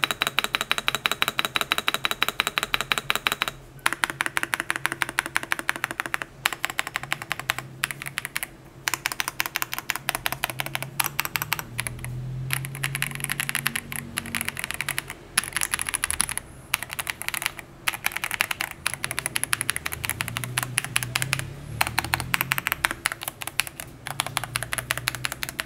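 Rapid, crisp keystrokes on a KZZI K75 Pro mechanical keyboard, clacking steadily close up with brief pauses between bursts of typing and a few heavier key thumps.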